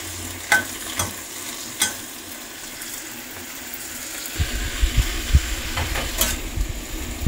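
Choi sum greens are stir-fried in a pan in their own juices, no water added. A spatula clatters and scrapes in scattered knocks over a low sizzle that grows busier and louder toward the end.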